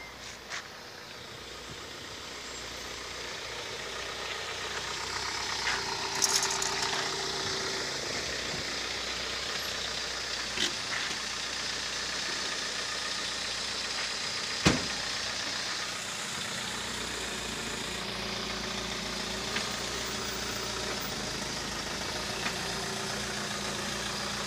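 A small Minsk motorcycle engine idles steadily nearby for a long stretch, a constant buzzing drone with a few faint clicks and knocks.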